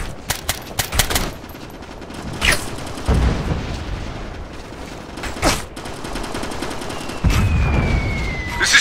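Gunfire crackles through a firefight in Operation Flashpoint: Red River, with sharp single shots and bursts close by, repeated reports spread throughout, and heavier booming stretches in between.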